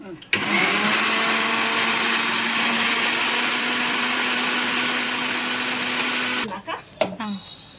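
A kitchen mixer grinder runs at full power grinding masala for fish curry, a loud steady whine from start to finish, then cuts off with a few clattering knocks at the end.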